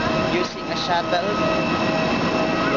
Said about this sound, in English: Shuttle